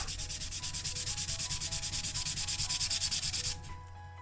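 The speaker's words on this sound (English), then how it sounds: "emery paper or sandpaper, and you can see actually just against this sandpaper the amount of metal that comes off" Rapid back-and-forth rubbing of emery paper against a metal part of a Singer Gazelle 168 sewing machine, a close, rhythmic scratchy rasp of about seven strokes per second that stops abruptly near the end.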